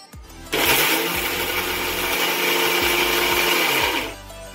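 A mixer grinder whirs loud and steady for about three and a half seconds, grinding toor dal into lentil powder, then winds down, with no voices.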